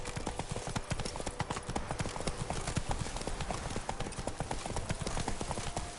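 Horse hooves clip-clopping steadily in The Witcher video game, a brisk regular rhythm of close hoof strikes with no voices over them.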